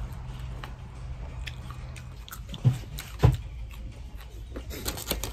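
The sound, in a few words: biting into crunchy green mango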